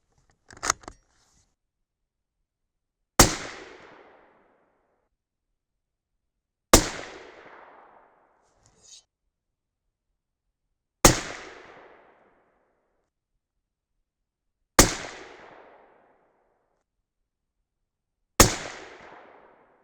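Five 6.5 Creedmoor rifle shots fired at a 100-yard target with a 41.6-grain H4350 load and 143-grain ELD-X bullets, sharp loud cracks spaced about four seconds apart, each trailing off quickly into near silence.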